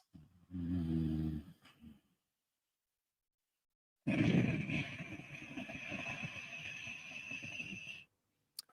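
A person breathing Ujjayi-style with the mouth closed makes a short, low, throaty rasp, then after a pause a long, steady, ocean-like hiss of about four seconds, close to the microphone, with no talking.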